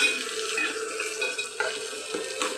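Tomatoes sizzling as they fry in a pan for boondi curry, a steady close crackle with occasional stirring scrapes and no voices.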